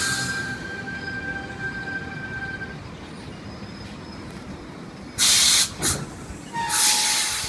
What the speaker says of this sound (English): Here we've got CSET C5 arriving into platform number 2